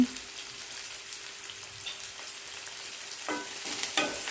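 Green chillies, onions and curry leaves fry in hot oil in a pan for a cabbage and potato curry, giving a steady, soft sizzle with a few stirring clicks near the end.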